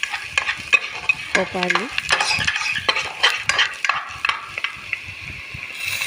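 Fish curry with turmeric being stirred in a frying pan, with rapid scraping and clattering of a utensil over a steady sizzle, close and loud; a voice briefly speaks.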